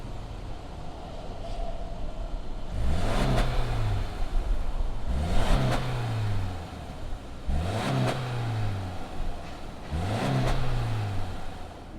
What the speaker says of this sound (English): let's go ahead, fire up this 2020 Legacy and see what it sounds like